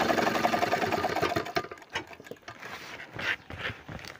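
A sewing machine stitches a double seam on a bag made from a fertilizer sack: a fast, continuous mechanical whir at first, then breaking into shorter, uneven bursts of stitching.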